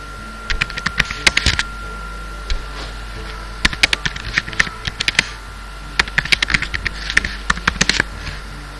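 Rapid keystrokes on a laptop keyboard come in close, crisp bursts of clicking separated by short pauses, with no one speaking.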